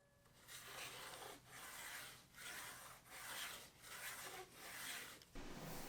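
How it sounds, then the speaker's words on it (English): A 3D-printed part and its track are sanded by hand in slow, even back-and-forth rasping strokes, about six in a row, close by with no talking. "I sanded down both the track and the print until I got them running smoothly"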